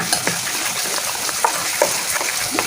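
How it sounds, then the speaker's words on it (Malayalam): Onions sautéing in a pan for a Kerala-style sardine curry, a steady close sizzle with occasional scraping stirs and light taps. "ഉള്ളി വഴണ്ട് വരുന്നതിൻ്റെ സൗണ്ടാണ് കേട്ടോ"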